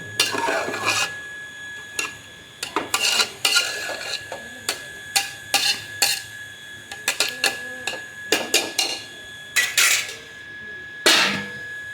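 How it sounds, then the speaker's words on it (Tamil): Coriander and mint being sautéed in a pot for village-style veg rice, a utensil scraping and stirring with repeated metallic clanks and scrapes in an irregular rhythm, close and fairly loud, with no talking. "மல்லி புதினாவும் சேர்த்துட்டு அப்படியே ஒரு வதக்க வதக்கிட்டு"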